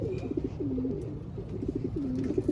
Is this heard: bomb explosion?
no